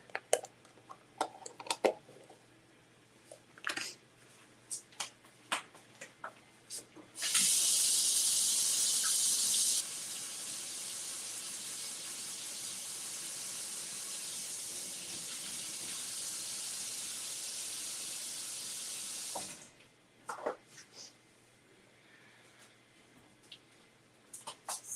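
Tap water runs steadily onto a metal pumpkin for about twelve seconds as it is rinsed off, a bright hiss starting and stopping abruptly, framed by close clatter and handling.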